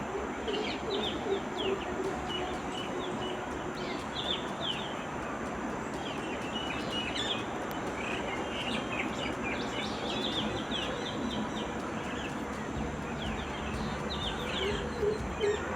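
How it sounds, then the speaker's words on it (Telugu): Birds chirp and call all around a village house, with dove-like coos and scattered tweets repeating over a steady outdoor hiss, moderately distant and continuous. "పక్షులు చూసారా, క్యూట్గా భలే అరుస్తున్నాయి కదా."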